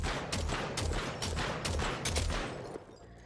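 Rapid dual-wielded gunfire in the VR shooter After the Fall, a dense burst of overlapping shots with several sharper cracks standing out over about three seconds before stopping abruptly.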